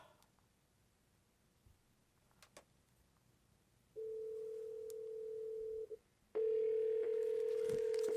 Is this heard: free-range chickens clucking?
no